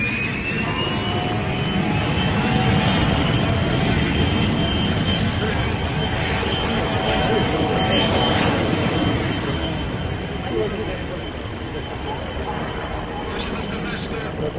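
An amphibious airplane that uses the sea as its runway drones steadily with engine noise, a broad roar carrying a faint high whine, and it eases slightly toward the end. A voice seems to talk over the sound.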